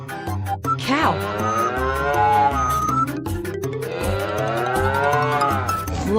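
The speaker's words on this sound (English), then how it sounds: "Cow." Cartoon cow giving two long, drawn-out moos, loud and close, over a rhythmic music backing, the second moo sliding slowly upward in pitch.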